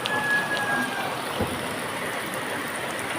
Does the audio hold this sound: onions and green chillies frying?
no